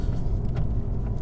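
Low, steady rumble of a Renault Alpine A110 engine idling while warming up, heard close and continuous for a moment with no talk.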